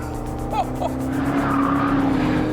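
A Corvette drifting around a turn, its tyres letting out a drawn-out squeal over the loud engine roar, with a brief chirp early on before the squeal rises and holds.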